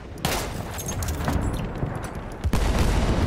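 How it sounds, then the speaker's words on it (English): A bomb dropped from a bomber in the wartime shooter Battlefield 1 bursts in a loud, close blast, set among a short flurry of booming impacts and gunfire-like cracks, with a final heavy hit near the end. "Oh, that's the bomb."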